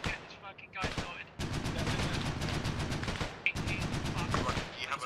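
Sustained bursts of rapid automatic gunfire in a military video game, loud and continuous, briefly broken by a short pause and a few voice fragments underneath.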